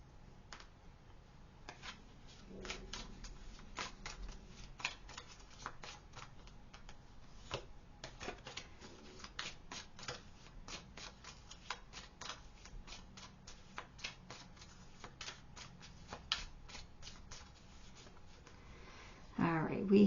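Tarot cards are shuffled in quick, close, crisp riffles and snaps that come in irregular bursts over a quiet background, with a brief handling noise at the end.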